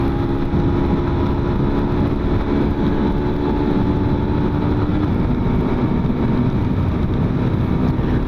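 Loud, continuous engine roar of a 2022 Yamaha FZ15 ABS motorcycle riding at speed on a riverside road, with a steady drone and wind rush, and no voices.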